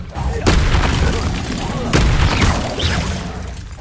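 Loud spell blasts in the Hogwarts Legacy video game, with two heavy booming impacts near the start and middle, surrounded by dense crackling and rumbling magical effects.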